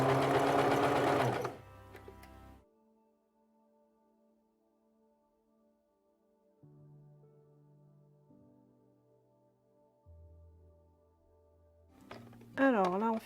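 A sewing machine runs a long straight seam, its motor hum steady and moderately loud, shifting in pitch as speed changes, with a person talking briefly at the start and end.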